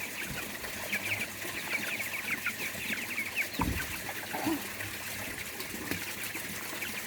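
Rescue chickens and young chicks in an aquaponics setup cluck and chatter continuously at a moderate distance, with busy overlapping calls and a steady trickle of water running underneath.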